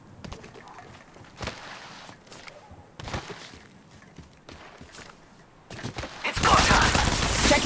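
Gunfire in the mobile battle game Apex Legends Mobile: scattered sharp shots and short bursts with footsteps between them, then a dense, louder stretch of rapid fire near the end.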